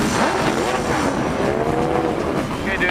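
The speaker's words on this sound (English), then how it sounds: "T1 World Challenge competitors," T1 World Challenge race cars fire up and rumble in the pit lane at Denver Raceway, a dense, loud mix of engines idling and revving, with a faint voice underneath.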